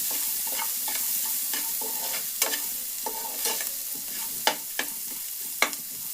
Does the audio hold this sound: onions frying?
yes